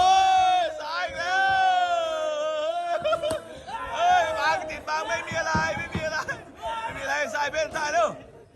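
A spectator crowd at a Muay Thai fight yells and cheers loudly and close, starting with a long sustained shout and breaking into rhythmic, overlapping bursts of cheering.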